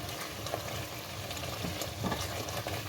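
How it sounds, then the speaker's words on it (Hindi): A spoon stirs ground spinach frying in ghee for degi palak gosht, a steady close sizzle with soft scraping and bubbling throughout. "और इसमें चम्मच चला दें इस तरह"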